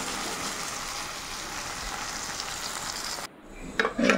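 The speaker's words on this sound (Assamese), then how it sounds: "এয়া চাওক ধুনীয়াকৈ লাহে লাহে ভাজি" Potatoes fry slowly in oil in a pan with a dense, steady sizzle that cuts off abruptly near the end, followed by a few light clinks of cookware.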